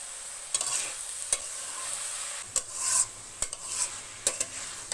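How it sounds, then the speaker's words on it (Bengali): Banana flower frying in a pan, a soft continuous sizzle broken by several sharp clinks and scrapes of a spatula stirring against the metal, close and without voices. "এবার আমি এটাকে কাছে ঢাকনা দিয়ে ঢেকে রেখে ভাজি করে নেব"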